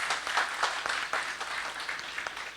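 Students in a classroom applauding, a short burst of scattered, moderately loud hand claps lasting a couple of seconds, with no talk over it.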